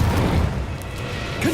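A brief low boom from a Confringo blasting spell exploding in Hogwarts Legacy, loud and close, with a faint whooshing tail.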